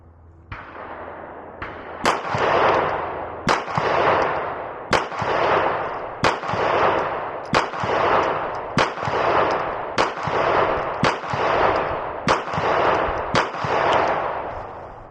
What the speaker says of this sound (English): let's go ahead and load up another 20 and then shoot at the next one